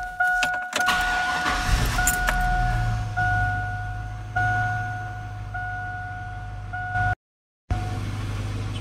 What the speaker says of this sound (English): got that sensor plugged in, so I'm gonna start it up